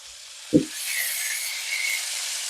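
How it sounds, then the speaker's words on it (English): One low thump as chicken goes into a pan of hot pork fat and Crisco, then a steady, bright frying hiss that continues evenly at close range. "Chicken in the pan. All right. Get that fry on."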